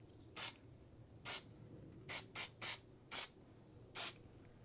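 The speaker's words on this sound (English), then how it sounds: "After you shake the can really good, just not close up, be about 12 inches away, spray it like this" Spray adhesive hisses from an aerosol can held about a foot away to make a spider-web effect, in seven short bursts with a quick double and triple pulse in the middle, close and distinct against a quiet room.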